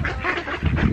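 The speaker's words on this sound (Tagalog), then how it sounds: "natakot ako sa mga itik. Ang dami nila" Ducks, or native itik, crowd in close while being fed, their overlapping quacks and honking calls forming a steady, busy chorus over a brief stretch.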